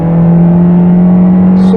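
Peugeot 2008 Griffe with a 1.6 engine and automatic gearbox pulling uphill with the air conditioning on, heard as a loud, steady droning engine hum inside the cabin.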